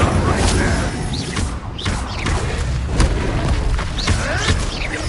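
Incendio fire spell cast in the Hogwarts Legacy video game, loud whooshing bursts of flame with booming impacts layered over constant combat noise, repeating several times in quick succession.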